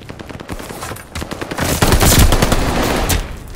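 Automatic gunfire rattles around a hardpoint in a Call of Duty Vanguard multiplayer match, sparse shots at first building into dense, loud bursts of machine-gun fire from about the midpoint.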